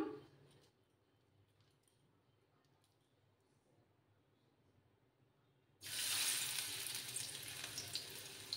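Lentil fritters (bora) frying in oil over a low flame: a faint, quiet stretch, then a sudden loud, continuous sizzle that carries on to the end, heard close by.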